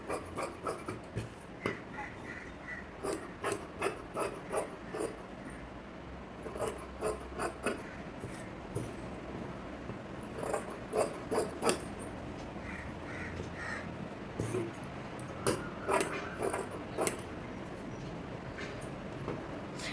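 Scissors cut through blouse fabric in a rhythmic series of short, crisp snips, close but fairly quiet, continuing steadily in clusters with brief gaps.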